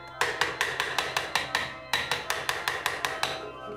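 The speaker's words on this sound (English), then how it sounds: "the foot of the pipe is beaten into shape against a wooden mandrel" Metal organ pipe foot being hammered into shape against a wooden mandrel: a steady run of sharp, ringing strikes, about three per second, close and clear with a short pause midway and no talk.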